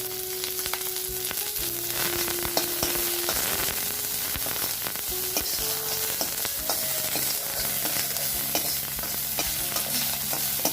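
Cumin seeds, cut green chilies and onions frying in a pan, a steady close crackling sizzle with stirring and scraping throughout, no voices.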